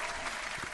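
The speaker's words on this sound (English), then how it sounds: "studio audience applause and the sitcom laughter, so I'm pushing the wrong one" A canned studio audience applause effect plays as a brief, faint burst of dense clapping under a quiet hiss.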